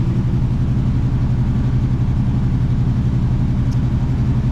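A 1966 Pontiac Grand Prix barn find idles with a steady, low, throbbing rumble, loud and close, holding an even rhythm throughout without revving.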